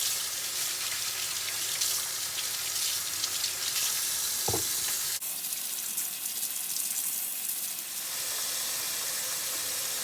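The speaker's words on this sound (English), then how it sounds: "So now you just fill water into the beets until they're covered." A pot of beets being filled with water from a kitchen tap, a steady broadband rushing pour that runs throughout with a brief knock partway through, near and continuous with no talking.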